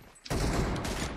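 Dense burst of in-game gunfire from PUBG Mobile, a sudden loud volley that starts after a brief quiet lead-in and keeps firing steadily to the end, heard alone with no talk.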